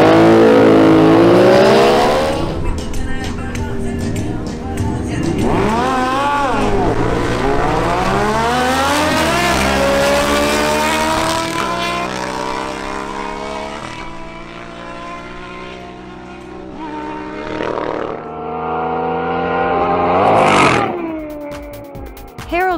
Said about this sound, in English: The next duel is between Harold Rodolo's Kawasaki ZH2 and Ruben Torres' Ducati